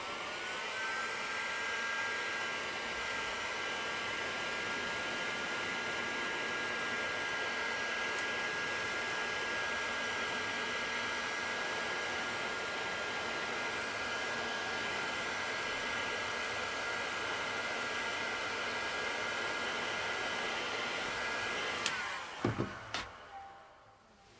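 A heat gun blows a steady, loud whirring hiss while warming a car coolant hose, running continuously for about twenty seconds before clicking off and winding down with a few knocks.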